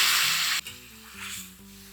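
Sizzling potato and cauliflower curry in a kadai hisses loudly, then water is poured in, cutting the sizzle abruptly into a softer bubbling simmer with faint clatter.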